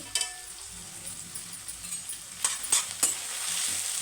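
Onions and curry leaves with cumin and a little salt sizzle steadily in a pan for an egg fry, with a few clinks from a spoon stirring, close and moderately quiet.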